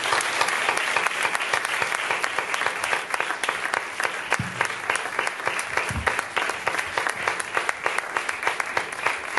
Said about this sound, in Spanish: Un aplauso para Didac